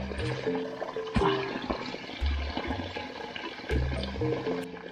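Water splashes and gurgles steadily from a mountain water source on a trail near Antipolo while a bottle is refilled, a close continuous flow with deeper surges, and a voice speaks briefly over it.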